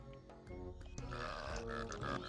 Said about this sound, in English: we'll get the burping achievement, because why not?